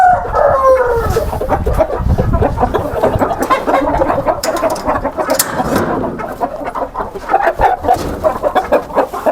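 A rooster, son of a Syrian rooster, crows loudly and close, with clucking and other fowl calls filling the background throughout.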